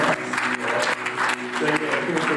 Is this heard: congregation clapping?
yes